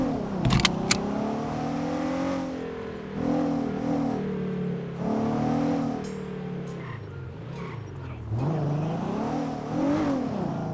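A police patrol car cruising in GTA V under the LSPDFR police mod, its engine droning steadily and rising and falling in pitch as it speeds up and eases off, with no one talking.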